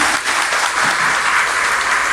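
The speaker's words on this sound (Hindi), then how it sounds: "मैं सभी को लिए चाहूँगा कि अपने लिए जोरदार ताली बजाइए।" Dense, steady applause from a seminar audience at a community gathering, many hands clapping together at close range for the whole stretch, with no voices over it.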